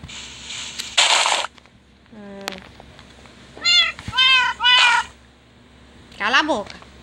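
Cats meowing in the video game Minecraft, several high, rising-falling meows in short bursts with a soft swish before them, close and clear, with a steady low hum underneath.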